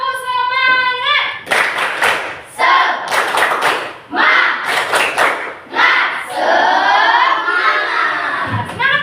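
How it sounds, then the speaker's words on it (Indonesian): A class of children doing a rhythmic spirit-clapping routine, with loud bursts of claps and shouted chanting in patterned groups, close and energetic, a teacher's voice leading at the start. "Coba Ibu mau buat dulu, lihat dulu tepuk semangatnya pada pagi hari ini. Tepuk semangat!"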